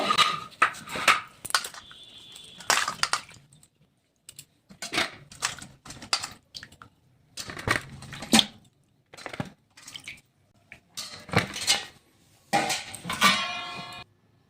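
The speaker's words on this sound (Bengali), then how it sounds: "এবার ভালো করে জলের মধ্যে ধুয়ে পরিষ্কার করে নেব।" Cut carrots are washed in water in a pot, making irregular clattering clinks, knocks and splashy rattles in short bursts separated by quiet pauses, close and fairly loud.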